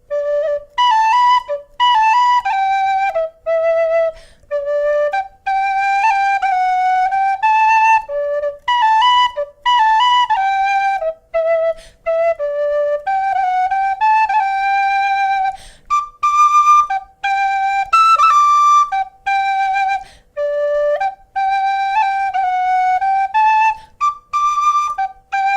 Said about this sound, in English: I am trying to play it and I'm trying to get used to it.